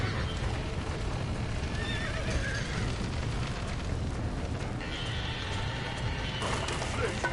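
Horses in the Wreckfest racing game whinny loudly several times over a dense bed of galloping clip-clop and rumbling noise, continuous and close throughout.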